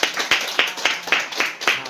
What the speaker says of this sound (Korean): 감사의 박수 올리도록 하겠습니다.